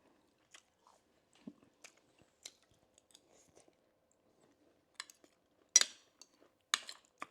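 Someone eats homemade beef tapa, with sparse quiet crunches and chews plus a few sharper clinks of cutlery on a plate, spaced irregularly in a very quiet room and with no talking.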